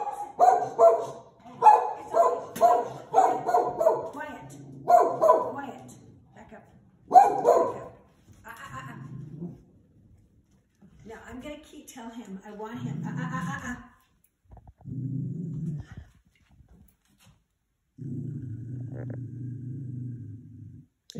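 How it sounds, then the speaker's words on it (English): A dog barks in a rapid series of loud, close yips and bow-wows, then switches to lower, rumbling growls in bursts, with people talking around it. "Is he growling at you, or is he still growling at the"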